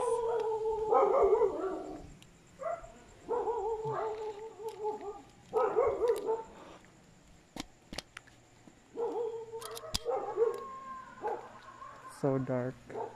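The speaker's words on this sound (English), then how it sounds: "So many dogs." Several dogs bark at night outdoors, coming in irregular bursts of repeated barks from near and farther off, while a person talks nearby.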